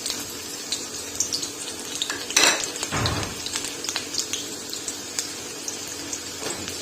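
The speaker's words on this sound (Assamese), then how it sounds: "তেল গৰম হৈ গ'ল ফ্ৰেণ্ডছ, এতিয়া পিঁয়াজখিনি এড কৰি দিম ইয়াতে।" Onions are dropped into hot oil in a pan, with a loud burst of sizzling and frying, then clinks of a utensil against the pan and quieter ongoing sizzle.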